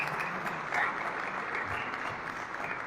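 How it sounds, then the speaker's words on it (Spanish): An audience applauds the author at a book presentation on corruption and power, with dense, continuous clapping from a room full of people throughout. "hay que aplaudirles"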